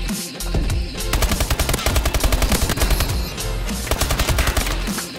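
An ASM1 assault rifle in Call of Duty: Advanced Warfare fires loud, sustained automatic bursts with rapid, evenly spaced shots that fill the scene.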